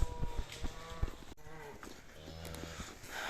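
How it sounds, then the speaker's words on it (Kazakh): Cattle and calves are driven through riverside woodland on the way to summer pasture, with low lowing calls over soft background rustling and movement. "Міне осындай жерлермен бұзауымызды айдап, сиырымызды айдап келе жатырмыз."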